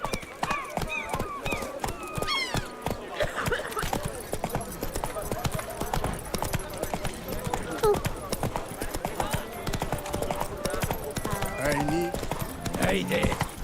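Roach the horse trotting in The Witcher 3, a steady rhythmic clip-clop of hooves throughout with occasional snorts, mixed under game music and voices talking.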